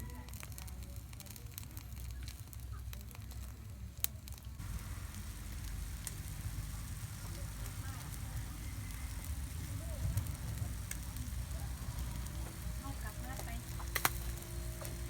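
Catfish grilling over a wood-fired stove gives a steady close crackle and faint sizzle, with a low fire rumble underneath and a few sharp pops throughout.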